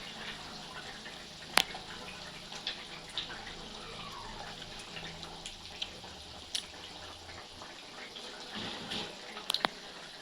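Water runs steadily into a cooking pot while a thin Bengali fish curry of fresh rohu with pointed gourd and ridge gourd is being made, a continuous faint splashing pour with a few sharp clinks along the way.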